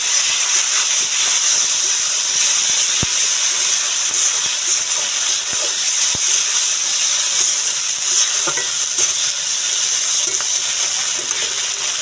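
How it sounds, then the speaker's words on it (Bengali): Ground spice paste frying with browned onions for a mustard egg curry: a loud, continuous hissing sizzle, close up and unbroken, with a few faint clicks underneath. "বেটে রাখা মশলা দিয়ে ভালো করে কষিয়ে নেব।"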